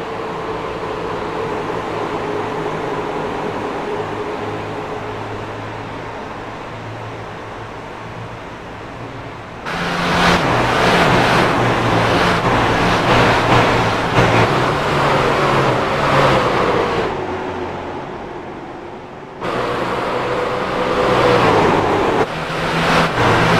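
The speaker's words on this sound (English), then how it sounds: "trucks are running very close" Race trucks in an All Pro Racing event at Phoenix roar around the track, engine noise building into loud, dense passes that cut off abruptly and return, with no talking.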